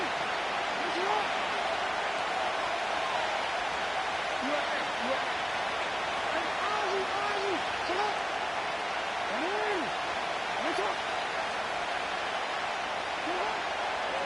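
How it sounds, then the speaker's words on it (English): Stadium crowd noise in a Madden NFL football video game during a Ravens at Jets matchup, a loud, continuous roar of cheering that holds steady, with a commentator talking over it. "This crowd into it now as we get to third down."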